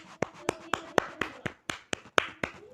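Applause for the winner of a Pokemon battle: sharp, separate hand claps in a steady rhythm, about ten in under three seconds, close and fairly quiet with no talking.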